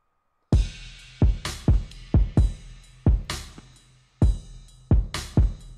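A programmed hip-hop drum beat with crisp cymbal crashes over punchy kicks, hitting about every half second in a steady, swinging rhythm with no voices.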